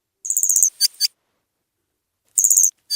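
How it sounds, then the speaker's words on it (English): A male Jackson's widowbird gives its courtship call in grassland: two bursts of rapid, high buzzy chirping notes followed by sharp clicks, separated by a short silence, close and clear with no talk. "to draw in a female, he begins his courtship call."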